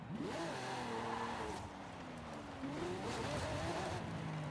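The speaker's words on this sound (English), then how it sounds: "you can hear that nice loud V12" A V12 hypercar in Forza Horizon 5 revs and shifts, its pitch sweeping up, dropping and climbing again, with faint tire noise in the background.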